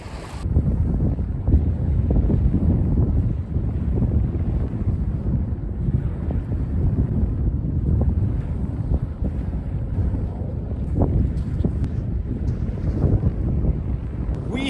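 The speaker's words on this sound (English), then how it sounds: "It's always a windy day if you're by the beach." Strong, steady wind roars and buffets the microphone at a beach in Tottenville, New York's southernmost point, with a low rumbling rush and no talking throughout.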